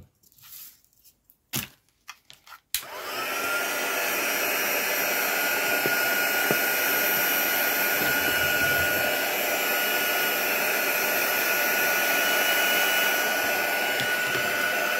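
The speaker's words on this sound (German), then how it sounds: "weil ja der Föhn erst eine gewisse Hitze haben muss, bis das Pulver schmilzt" A hair dryer blows hot air onto embossing powder on paper card during crafting. It switches on after a few faint clicks and handling noises, then keeps up a loud, steady, close whoosh of airflow and motor hum with no break.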